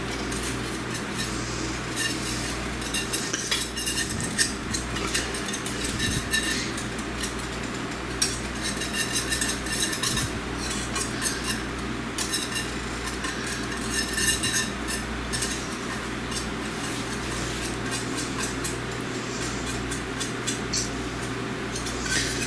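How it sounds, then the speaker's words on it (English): Butter whisked into Alfredo sauce in a pan: a continuous, busy clatter of a metal whisk scraping and ticking against the pan for a long stretch, steady and fairly loud, with no talk. "the instructions say to whisk it into the sauce"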